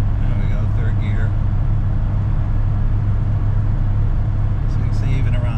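A 1970 Rover P6 3500S drives along with a steady low engine drone and road rumble while shifting up into third gear; someone talks over the cabin noise.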